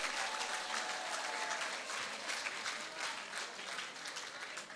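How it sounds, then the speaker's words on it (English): Audience at a national science fair breaking into a steady wash of applause, dense and sustained from start to finish with no voices on top. "Let's give them a round of applause."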